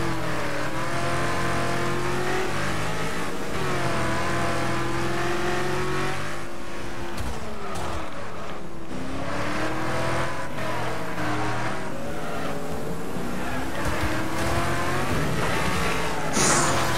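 Race cars in the Wreckfest video game, a three-lap race with 24 cars, rev and roar continuously with shifting engine pitches, loud and close, with cars passing and brief tire squeals.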